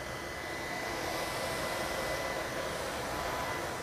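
An LG R9 robot vacuum cleaner runs during a house cleaning test, giving a steady, close, unbroken whirring hiss with no talk over it.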